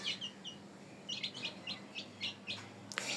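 Three small chicken chicks on a farm kept alongside pigeons, peeping in quick high repeated chirps, faint and fairly close, with no talking.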